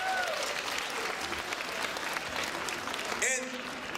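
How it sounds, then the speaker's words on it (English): An audience at a martial arts talk applauds on cue, a thick, continuous burst of clapping with a few cheers and a voice breaking in near the end. "clap for that"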